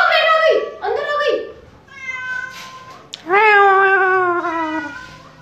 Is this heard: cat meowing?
yes